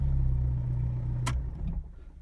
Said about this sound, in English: Give it some gas. And it'll start up.